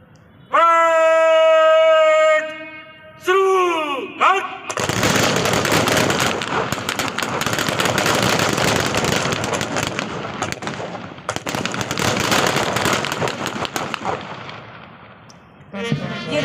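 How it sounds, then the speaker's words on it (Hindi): A ceremonial celebratory rifle volley, a running 'harsh fire', at a Republic Day parade in Indore: after a few tonal calls, a long rolling crackle of rapid shots carries on for about ten seconds, loud and continuous. "यह पहला हर्ष फायर है।"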